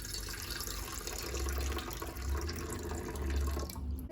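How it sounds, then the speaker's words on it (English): Water being poured into a small silver bowl, a steady close trickle and splash for about four seconds with a low gurgling undertone, stopping abruptly at the end, no voices. "I have this little silver bowl and we're just going to pour some water in there"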